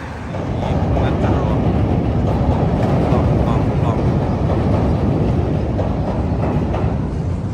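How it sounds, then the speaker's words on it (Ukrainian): A Chicago elevated metro train rumbles steadily and loudly overhead, a continuous dense roar of wheels on the raised track, with a voice speaking faintly beneath it. "Їздить їхнє метро, як бачите, на другому поверсі."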